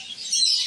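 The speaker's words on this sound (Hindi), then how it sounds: "ये फिशल तोते हैं सारे, ये बड़े तोते हैं, वो जो पहाड़ी तोते होते हैं। ये बजरी तोते हैं" Caged parrots and budgerigars at a bird market chirp in a brief, bright high twittering, steady and fairly faint, with no talk over it.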